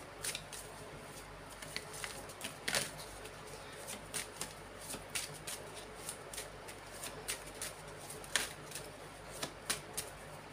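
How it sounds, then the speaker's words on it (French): Tarot cards being shuffled by hand at close range, a steady run of crisp riffling snaps and soft flicks over about ten seconds with a louder burst near the start and no talking. "pensez bien à votre question pendant que je mélange les cartes"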